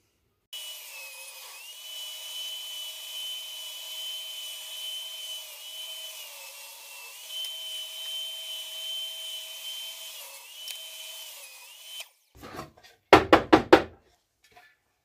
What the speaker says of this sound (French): je vais essayer de défoncer le logo dans ma planche